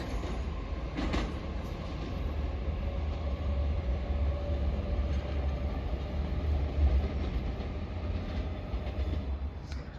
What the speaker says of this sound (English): Arriving in now is the 1518 ScotRail service from Helensburgh Central to Edinburgh Waverley.